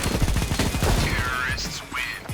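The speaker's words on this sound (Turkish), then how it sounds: "Yani 200 metre uzakta Deagle'la vuruyor" Desert Eagle pistol fire in a competitive multiplayer shooter match: a dense, rapid burst of overlapping gunshots, fairly loud, with a voice breaking in toward the end.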